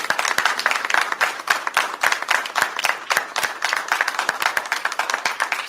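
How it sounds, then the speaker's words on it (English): Clapping erupts at a school board meeting, brisk and fairly loud, with distinct individual claps rising out of a steady crowd patter throughout. "Stop clapping."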